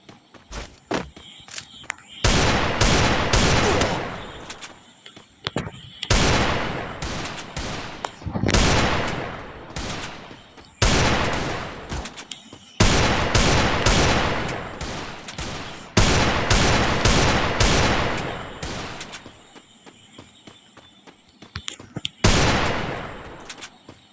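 Bursts of automatic gunfire from a video game shooter rattle in long rapid volleys separated by short pauses, loud and close, with occasional single shots and a voice faintly present underneath.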